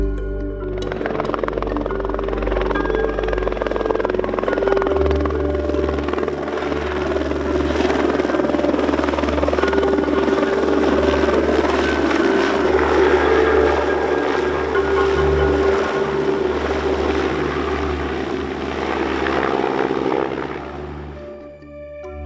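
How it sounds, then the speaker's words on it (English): A helicopter flies cargo loads out to the Bass Rock, its rotor and engine sound loud, close and continuous for over twenty seconds, then starting to fade at the end. "We're doing some helicopter operations, taking loads out to the Bass Rock."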